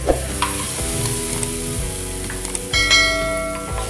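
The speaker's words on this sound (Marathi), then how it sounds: "आता आपण याच्यामध्ये बेसन टाकून घेऊया" Gram flour (besan) stirred into a spice masala with red chilli powder on a hot tava for pithla, giving a close, steady scraping sizzle with scattered knocks, while a sustained ringing tone runs alongside.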